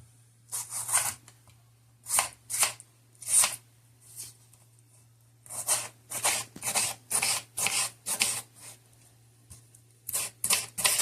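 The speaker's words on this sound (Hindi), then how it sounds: "इतने साइज का टमाटर हो तो उसके भी छोटे छोटे स्लाइस कर लें" A knife slices a tomato into small pieces on a cutting board, giving a series of short, crisp chopping strokes in quick clusters with brief pauses, close and fairly quiet over a steady low hum.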